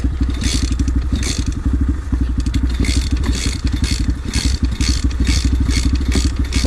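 A Kayo TT 125 dirt bike engine without an electric starter runs close by with a loud, rapid, even chugging beat and a rattly mechanical clatter.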